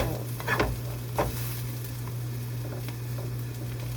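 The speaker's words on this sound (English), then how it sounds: "I'm trying to get the onions like cooked good" Onions sizzle softly in a pan, a faint, even close hiss with a few light stirring clicks near the start and no voices.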